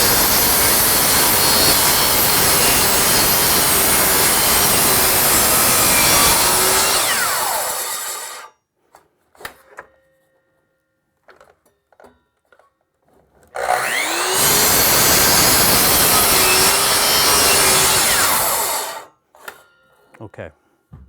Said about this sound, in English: Always hold the saw away from the material until it gets up to full speed.